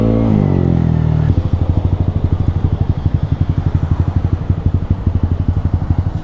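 A Yamaha Aerox 215cc scooter runs under way, its engine buzzing loud and close with a rapid, steady pulsing after a brief higher rev at the start, with no talking.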